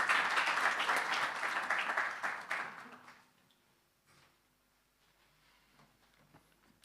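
A community dialogue audience applauds a speaker being welcomed to the stage, the clapping loud and sustained for about three seconds before fading out into a quiet, nearly silent room.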